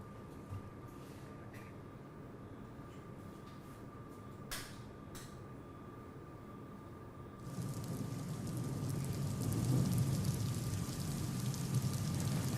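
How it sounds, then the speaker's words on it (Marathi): Heavy monsoon rain in Gadchiroli starts as a faint background hiss with a few soft knocks, then swells into a louder, steady downpour for the last few seconds. "गडचिरोलीमध्ये मुसळधार पाऊस चालू आहे।"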